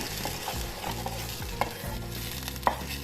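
Tomato puree with added turmeric and salt cooks in a pan while a spoon stirs it, producing a dense bubbling sizzle with rhythmic scraping and two sharp taps on the pan.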